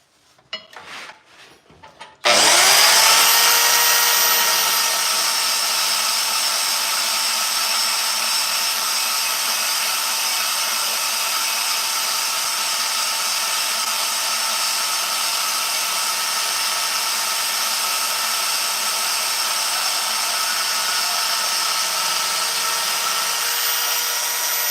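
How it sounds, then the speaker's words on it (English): A portable bandsaw mounted on a bench attachment cuts steel plate after a few handling knocks at the start, then runs as a loud, steady metallic whine with a bright, even tone for about twenty seconds, with no talking. "You can have a table bandsaw like this. It's a little porta band with a bench attachment."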